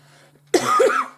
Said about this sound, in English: And of course, I'm gonna cough, okay?